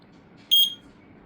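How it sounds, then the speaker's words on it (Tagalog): A single short, high-pitched beep sounds once from a conventional FDAS fire alarm panel with a battery fault, standing out clearly over a quiet background hum. "subukan natin to ka Gencon, tanggalin yung battery kung ano yung alarm"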